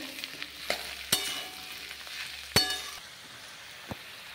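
Potatoes being stir-fried in a pan for aloo posto, a soft sizzle running beneath a few sharp clinks and scrapes of a utensil against the pan, fairly quiet and close, with no talking.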